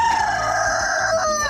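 Roosters crowing right nearby at a rural spot where rice is being milled, a loud drawn-out crow filling the moment at close range with no talking.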